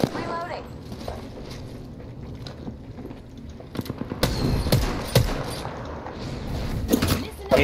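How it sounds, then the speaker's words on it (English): Gunfire from both sides in the Apex Legends video game, clusters of sharp shots and rapid bursts that grow denser in the second half, mixed with game noise and voices talking. "I'm getting shot from both sides."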